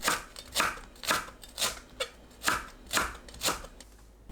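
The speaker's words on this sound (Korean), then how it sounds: "청양고추 2개, 홍고추 2개, 파 줄기 1대는 어슷 썰어줍니다." Knife slicing onion, Korean green and red chili peppers and green onion on a cutting board for young radish kimchi, a steady series of about nine crisp close cuts at an even rhythm, no talking.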